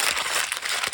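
Wax paper, waxed on both sides, crumpled and squeezed by hand, giving a continuous close, loud crinkling and crackling for about a second with no voices.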